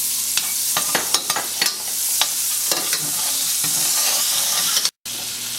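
Butter melting and being stirred in a hot pan for mushroom pappardelle, a steady loud sizzle with frequent scraping stirs and clicks, briefly cutting out near the end.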